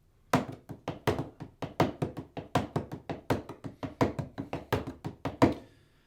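A bodhran, the Irish frame drum, struck with a stick in a steady jig or reel pattern: about twenty close, crisp thumps in even rhythm, with some strokes landing louder as accents. No voices are heard.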